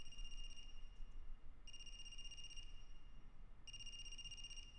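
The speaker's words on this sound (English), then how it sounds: "Is that the phone ringing?" A telephone rings in the video game AI: The Somnium Files, three electronic bursts spaced about two seconds apart over quiet background hum, with no one talking.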